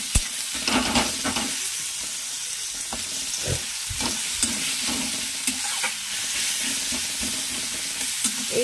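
Tomatoes sizzle in a pan over salted onions for an okra, potato and fish curry, a steady frying hiss broken by regular spoon scrapes and stirring bursts about once a second.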